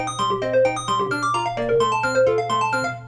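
A Sledge synthesizer built from two oscillators plays two interleaved arpeggios, a lower line in steady eighth notes under a faster upper line in sixteenths, over a sustained low drone, bright and continuous with no talking.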